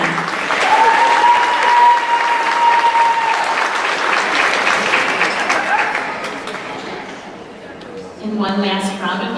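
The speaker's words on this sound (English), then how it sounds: "And one last round of applause for our ELA Most Improved." Steady, full applause from a school awards ceremony audience, sustained for several seconds before tapering, with a faint whistle early on and a voice starting to speak over the tail.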